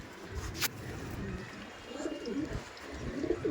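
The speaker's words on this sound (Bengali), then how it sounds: "দেখুন আমাদের কলকাতার ম্যান্ডাসি পায়রা এগুলো" Mandasi pigeons in a Kolkata loft giving low, murmuring coos that rise and fall, close but soft, with faint background noise and a brief sharp knock early on.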